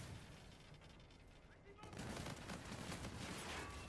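Rapid hip-fire gunfire in a chaotic first-person shooter match, a dense continuous burst of shots that swells louder partway through and keeps rattling without pause.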